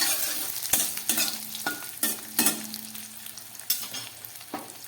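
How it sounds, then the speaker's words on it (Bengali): Capsicum frying in a pan for vegetarian pakora, a close low sizzle broken by repeated scraping stirs of a spatula, the strokes irregular and sharp against the metal, with no talking. "ক্যাপসিকামটা ভালো করে ভেজে নিই"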